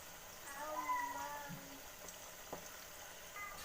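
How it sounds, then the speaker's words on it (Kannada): Cabbage pakodas deep-fry in hot oil, giving a soft, steady sizzle with faint bubbling, while a voice briefly murmurs in the background. "ಎರಡು ಸೈಡ್ ಚೆನ್ನಾಗಿ ಗೋಲ್ಡನ್ ಕಲರ್ ಬರೋ ತನಕ ಹುರ್ಕೊಳ್ಳೋಣ"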